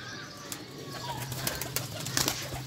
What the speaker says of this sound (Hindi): जी ये सारे कबूतर मैं आपको दिखा रहा हूँ